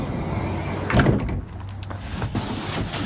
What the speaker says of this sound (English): We'll open the other side door as well.